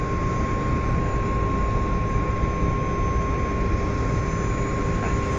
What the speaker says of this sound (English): You hear planes, but you don't see them.